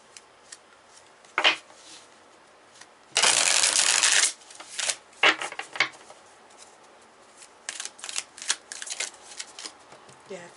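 Tarot cards shuffled by hand in bursts: a brief riffle, a longer loud rushing riffle around four seconds, then scattered softer flicks and taps, faint and close.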